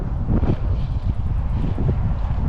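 Strong wind buffets the microphone outdoors while fishing with a baitcasting reel, giving a steady, loud rumbling roar with no other clear sounds.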